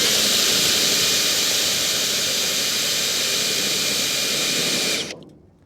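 A hand drill cranks a Kwick Kranker Top Kranker trailer jack, giving a loud, continuous whirring roar that runs steadily for about five seconds, then cuts off abruptly into near silence.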